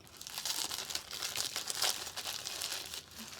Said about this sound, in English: So I'm gonna take it out of the plastic.